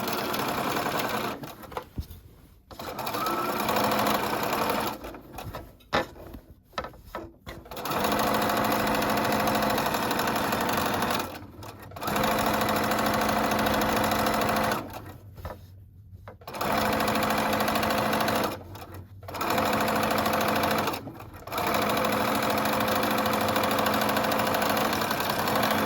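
A sewing machine top stitches a seam of a wrap dress with a quarter-inch seam allowance, humming in long runs that stop and start between short pauses, close and clear with no talking.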